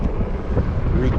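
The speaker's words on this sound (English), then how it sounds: "All this wind is wicked." Strong wind buffeting the microphone in a continuous loud roar with low rumbling gusts, a faint voice buried beneath it.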